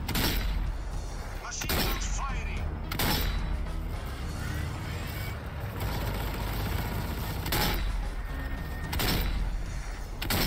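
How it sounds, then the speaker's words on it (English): Bursts of machine gun fire in the zombie shooter video game Zombie Army 4: Dead War, several sharp volleys spaced every couple of seconds over a busy game soundscape, with some voice in the mix. "Machine gun firing!"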